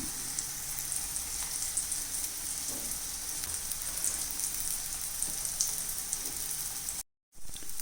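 An egg, vegetable and bread pancake fries in a pan, giving a steady, close hiss of crackling oil that runs almost unbroken and then drops out briefly near the end.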